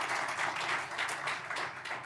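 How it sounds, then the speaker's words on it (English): Audience at the Wesgro Annual Review claps for Dr. Ramokgopa, a soft, distant patter of scattered hands pulsing unevenly through the room, fairly faint and without talk. "So maybe another round of applause for Dr. Ramokgopa."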